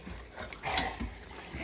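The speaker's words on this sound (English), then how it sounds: "Happy dogs." Dogs make small excited yips and whimpers at close range while eating treats, brief bursts over a faint background.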